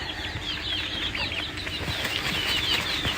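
An Aseel rooster dusting itself in soil, with repeated wing flaps and scratchy rustling close by, alongside soft clucking and other birds chirping in the background.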